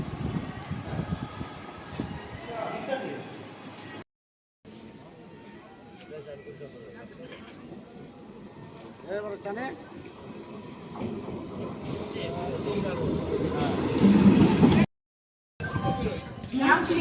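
A Hool Express passenger train running from Bandel rumbles and clatters steadily with wheel noise, growing louder toward the end, while people talk nearby.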